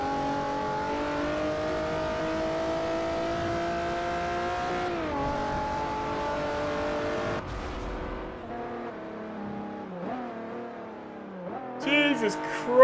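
A rear-wheel drive car in the Forza Motorsport 4 racing game revs with a sustained, climbing engine whine and shifting pitch, easing off toward the end with brief tire noise, while someone comments throughout.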